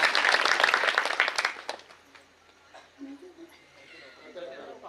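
Audience applause at a kirtan devotional gathering, a burst of clapping for about two seconds that fades away, followed by quieter voices and a sustained tone.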